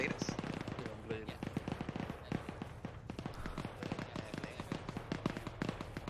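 Automatic rifle fire rattles in the military shooter Arma 3, rapid repeated shots in dense bursts of moderate loudness, with teammates' voices talking alongside.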